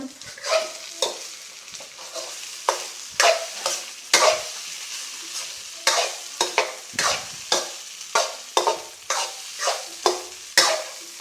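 Fried rice being stir-fried in a home kitchen pan, a spatula scraping and tossing in repeated sharp strokes over a soft background sizzle, close and without talk.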